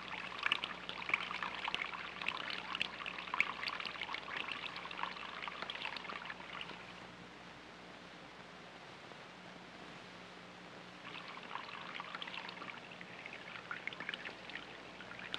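A thin stream of running water pours steadily for several seconds, eases to a quieter trickle, then picks up again, with no voices.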